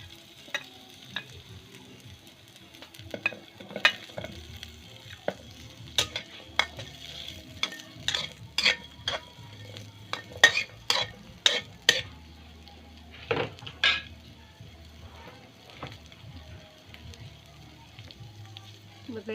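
Chunks of chayote are stirred and sautéed in a pot for tinola, with repeated clinks and scrapes of a utensil against the metal over a soft background sizzle.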